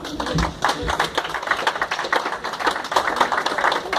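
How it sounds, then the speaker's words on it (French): A church congregation claps to encourage a shy woman, uneven clapping from many hands in a reverberant hall, steady and moderately close, with a voice talking briefly over it. "Est-ce qu'on peut applaudir pour l'encourager?"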